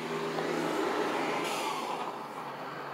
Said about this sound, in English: I think a car went by.